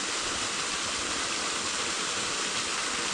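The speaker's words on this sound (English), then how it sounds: "what do you think about this waterfall?" A waterfall in the Richland Creek Wilderness pours with a steady, full, hissing rush of falling water, constant and close, with no other sounds.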